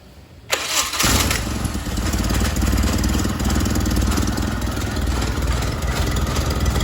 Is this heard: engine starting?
yes